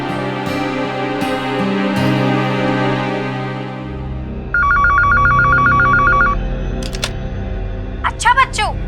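A landline telephone rings loud and close in a few repeated electronic bursts, following tones and clicks, with brief sharp knocks near the end.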